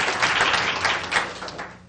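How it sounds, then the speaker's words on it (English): At a school board meeting, the room claps for student award winners in a short burst of steady applause that fades out within two seconds. "We can't clap our hands too many times for our young people."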